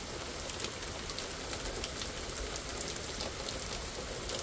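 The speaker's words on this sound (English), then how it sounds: "now it's just extremely freaking heavy rain" Heavy thunderstorm rain in Canada pours down steadily in a dense, hissing wash of drops, loud and close, with no voices.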